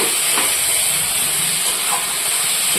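Cumin and chili paste sautés in hot oil, making a loud, continuous hissing sizzle close by, with a few faint scraping stirs and no voices.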